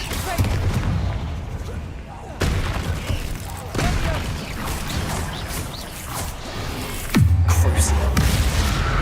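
Confringo blast spells go off in the video game Hogwarts Legacy: several sharp, booming explosions with crackling debris, spaced a second or two apart, with voices talking over them.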